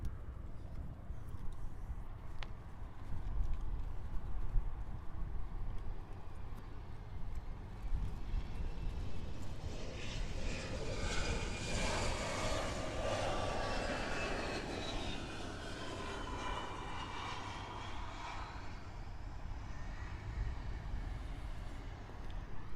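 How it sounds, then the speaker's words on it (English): An American Airlines Embraer E175LR operated by Envoy Air arrives at Miami International Airport, its jet roar rising over steady background rumble, peaking mid-clip with a whining engine tone, then slowly fading into the distance. "we have American Airlines Flight 3565 arriving in from Key West. It's operated by Envoy Air."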